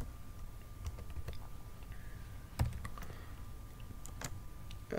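Computer keyboard keys click sparsely and irregularly as a C program is typed, soft close taps with a few louder strikes against quiet room noise.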